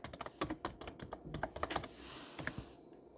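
Quiet, close keystrokes on a computer keyboard tap out a short burst of text in an irregular rhythm, soft clicks clustered together with a brief pause near the end.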